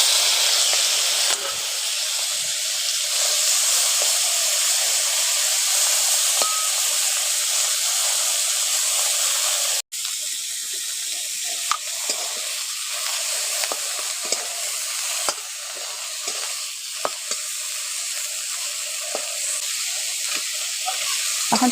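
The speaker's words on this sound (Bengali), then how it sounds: "এখন গরম কড়ার মধ্যে অল্প করে সরষের তেল দিয়ে দিচ্ছি। চিংড়ি মাছগুলো একটু হালকা করে ভেজে নেব।" Shrimp frying in mustard oil in a hot wok, a steady loud sizzle and hiss throughout with brief stirring scrapes and crackles, no talking.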